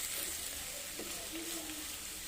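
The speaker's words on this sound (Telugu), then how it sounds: "అలా 2 నిమిషాలు వేగిందండి" Dry prawns cooking with tomatoes, salt and chilli powder in a covered pan on the stove give off a steady, faint sizzle and hiss that continues evenly throughout, with no one talking.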